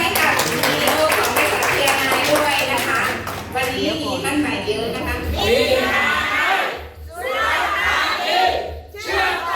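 Audience at a Thai health and wealth business event breaking into loud crowd noise with clapping, cheers and shouts, swelling and dipping in waves as a voice talks over it.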